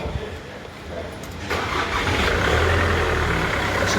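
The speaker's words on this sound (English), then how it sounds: "As you see, car started up." A Jaguar X-Type engine cranks and catches after a starter motor replacement, jumping to a steady, loud idle that runs on close by, with faint voices underneath.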